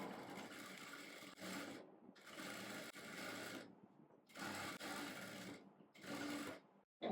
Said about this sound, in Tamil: 1/2 இன்ச் சீம் அலவன்ஸில் அப்படியே தைச்சி வந்துடுவோம்.